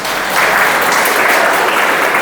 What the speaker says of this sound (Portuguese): As mulheres podem aplaudir aí?